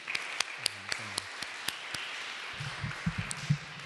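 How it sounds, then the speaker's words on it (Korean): A church congregation at a Korean Sunday service in Freiburg claps, starting with scattered sharp claps that grow into soft, fairly distant applause mixed with murmuring. "우리 하나님께 영광의 박수 한번 올려드릴까요?"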